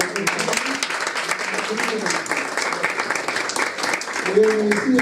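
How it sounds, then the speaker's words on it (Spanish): An audience applauding the doctor at the close of an international law conference at a university, dense clapping from many people under a speaker's voice, swelling slightly near the end. "démosle el último aplauso al doctor"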